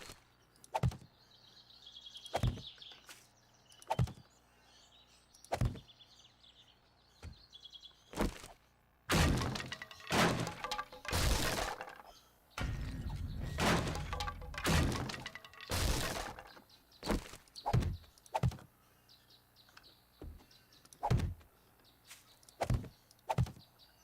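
Axe breaking blocks in 7 Days to Die, a series of sharp, separate impact thuds and cracks at irregular intervals, with a louder cluster of longer crunching breaks in the middle.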